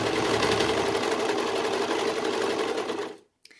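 A sewing machine runs fast and steady for about three seconds while stitching a neckband onto a knit garment, then stops abruptly and leaves a brief click in the quiet.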